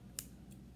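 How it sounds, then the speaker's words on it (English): Scissors snip into a stress ball with a sharp, close click, followed by a second fainter snip, over a low background hum. "Wait, we need better scissors."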